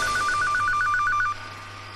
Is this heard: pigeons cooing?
no